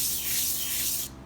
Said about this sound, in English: just keep sanding